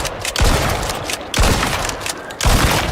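Bursts of gunfire in the survival game ICARUS, three heavy volleys of rapid shots, loud and close, each starting abruptly and trailing off into a rumbling tail.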